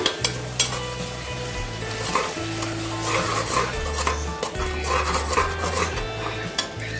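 Tomatoes fry with curd in a pan for chicken biryani, giving a steady sizzle with scraping stirs and light utensil clinks, while a low hum pulses underneath.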